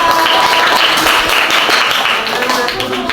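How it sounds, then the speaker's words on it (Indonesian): Classroom clapping for a student group after a presentation on the planets in an Indonesian elementary lesson, a brisk, steady patter of many small hands, close and fairly loud, with faint voices mixed in. "tepuk tangan untuk kelompok Caca."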